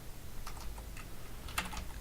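Light, quick keystrokes on a computer keyboard come in a short irregular burst, faint and close, with no voices.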